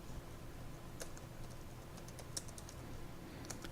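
Faint clicking and typing on a computer keyboard, a few sparse keystrokes and mouse clicks at about one, two and three and a half seconds over a steady low background hum.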